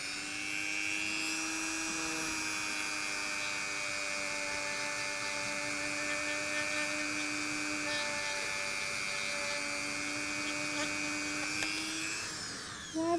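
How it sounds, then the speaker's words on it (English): A rotary tool on high speed runs steadily, polishing a shell with a beeswax pad, giving a continuous high whine with a faint rubbing texture throughout and a slight pitch shift near the end. "turn your tool on high. And rub it into the beeswax, and the friction will melt the beeswax onto the pad"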